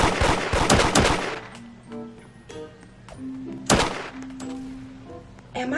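Gunfire in the Roblox game Da Hood: a dense rapid burst of loud shots at the start, then a single sharp blast near the middle and another at the end, over quieter game noise.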